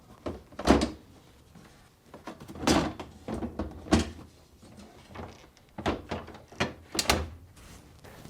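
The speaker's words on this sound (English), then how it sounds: "Now, tilt the front down and position it on the slides." Plastic freezer drawer from a Whirlpool Maytag refrigerator being tilted and set onto its drawer slides, giving a series of close, sharp thunks and clacks with scraping and rattling between them, no talking.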